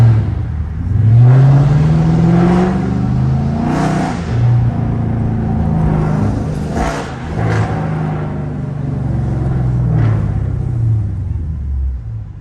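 A loud 420-horsepower Dodge R/T rumbles through downtown Chicago at night, its engine note rising and falling steadily with a few revving surges across the drive.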